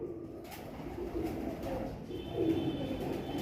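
Pigeons of the kunda breed coo in low, repeated throaty phrases, close by and steady throughout, with a faint high tone drifting in partway and no talking.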